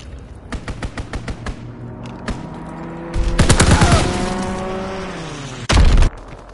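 Aircraft strafing gunfire in a video game: a rapid burst of loud machine-gun shots, then a roaring engine pass with a sweeping pitch, and a final heavy blast.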